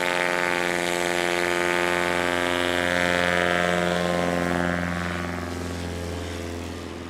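A STOL aircraft at the 2025 National STOL Series Championship in Sulphur Springs, Texas, takes off with a loud, steady propeller-engine drone that holds strong, then slowly fades as the plane pulls away.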